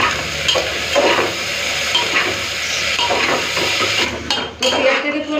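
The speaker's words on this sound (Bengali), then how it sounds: "তো পেঁয়াজটাকে পুরো লাল করে ভেজে নিয়েছি" Chopped onion with salt fries in hot oil already seasoned with whole garam masala and bay leaf, sizzling loudly as a utensil repeatedly scrapes and clatters against the pan in quick stirring strokes.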